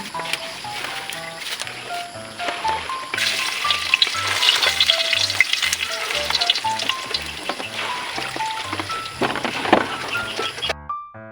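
Garlic sizzles steadily in hot oil in a pan before bamboo shoots are cooked, loud and close, with a few clinks of a utensil stirring against the pan.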